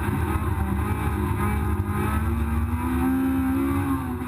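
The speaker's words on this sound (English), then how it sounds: "just pay attention to how quickly they zoom away from me on the straights" Race cars accelerate along the straight at Brands Hatch, heard from inside a competing car as a loud, continuous engine drone with a pitch that climbs steadily.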